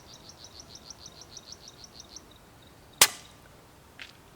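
One crisp crack from a Daystate Red Wolf air rifle taking a long-range shot outdoors, with birds or insects chirping rhythmically beforehand and a faint distant impact following about a second later.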